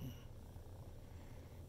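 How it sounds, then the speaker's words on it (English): A female cat purrs softly and continuously at close range, a faint low rumbling texture sustained throughout the short stretch, alone without talk. "There's your little purring motor"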